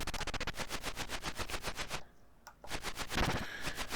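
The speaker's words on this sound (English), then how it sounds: "The enemy that drops the special weapons has its own distinct noise as well," A warning sound for the enemy that drops special weapons in the retro video game Bee 52 on Evercade. It is a loud, rapid, machine-gun-like stream of buzzy pulses that breaks off briefly, then returns.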